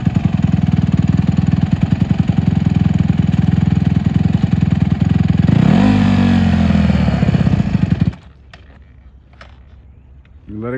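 A Honda CRF150R dirt bike engine runs loud and steady at a fast, pulsing idle, revs up and bogs near the end, then cuts out abruptly, leaving quiet with faint voices.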